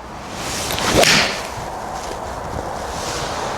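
A single sharp click of a Srixon ZXi5 iron striking a golf ball, followed by a fading whoosh against steady outdoor background noise.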